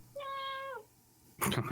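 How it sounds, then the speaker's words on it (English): A pet cat named Mousy gives a single clear, drawn-out meow lasting most of a second, fairly close, followed after a short pause by a burst of people talking. "That's my cat."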